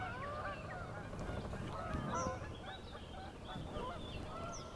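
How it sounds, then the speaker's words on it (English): Several geese honk repeatedly as they come in to land on water beside a bass fishing spot, the calls overlapping at moderate distance over steady outdoor background noise. "I was over trying to get a shot of the geese landing."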